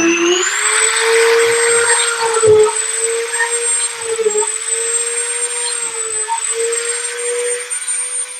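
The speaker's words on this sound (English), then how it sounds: "I need to get the rest of these holes drilled." A small electric drill whines steadily at high pitch while boring holes in an O-scale model locomotive, close and continuous with slight pitch dips as the bit bites.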